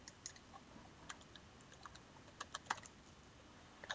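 Quiet, close keystrokes on a computer keyboard as a short command is typed, with a few slightly louder taps near the end over faint background hiss.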